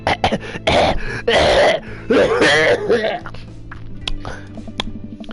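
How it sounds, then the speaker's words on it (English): A person clears their throat several times in harsh, raspy bursts, close to the microphone, followed by a quieter stretch with faint clicks. "I clear my throat."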